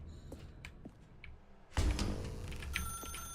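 A telephone rings in the video game The Stanley Parable, a sharp electronic ring starting partway through over a quiet background hum, fairly close and clear.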